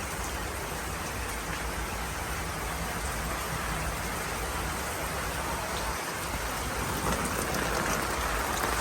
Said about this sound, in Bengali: সকাল থেকেই বৃষ্টি শুরু রাতে তো বৃষ্টি ছিলই